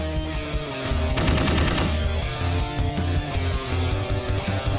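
A burst of rapid automatic gunfire rattles loud and close, then gives way to a sustained backing of dramatic music with heavy low pulses, with no talk.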